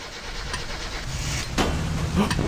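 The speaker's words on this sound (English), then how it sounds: "Attempt 2 at starting the car." Car engine cranking and catching in the My Summer Car video game, a rough low mechanical churn that bursts into louder running with a couple of sharp surges near the end.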